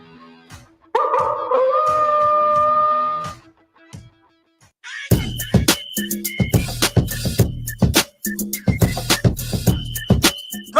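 Within a radio advertisement, a single sustained howl rises and holds for a couple of seconds, followed after a pause by a dense burst of punchy, rhythmic sound effects and music.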